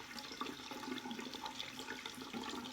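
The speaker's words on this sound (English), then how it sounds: "I'm running it underneath the water and then I'm squeezing it like that." Tap water running over a foundation stick while it is rinsed and squeezed, a steady close splashing rush with small fluctuations, fairly quiet, with no talk.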